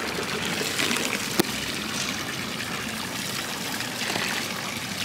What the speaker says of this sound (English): One of the things you do in Switzerland is drink the water straight from the fountains.